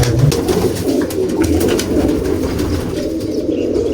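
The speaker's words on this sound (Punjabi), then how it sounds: "ਇਹ ਬਾਈ ਬਾਈ ਫੋਟੋ ਦੇ ਘਰੋਂ ਕਬੂਤਰ ਆਇਆ ਸੀ" Pigeons coo steadily in a loft of old-lineage birds, a layered, continuous low murmur of several birds close by with no talk over it.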